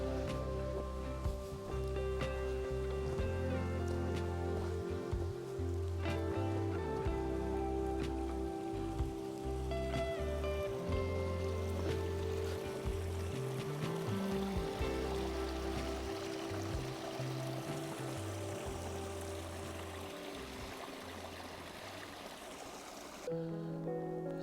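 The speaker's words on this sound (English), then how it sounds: "So I can hear the sound of running water." Water in a small forest creek runs and splashes steadily and fairly close throughout, a continuous gurgling wash with a faint low hum underneath.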